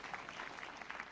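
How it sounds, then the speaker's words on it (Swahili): Brief, steady applause from an audience for Chairman Kepsha at a Gatundu South education gathering, soft and continuous with no voices over it. "tumpigie makofi Chairman Kepsha"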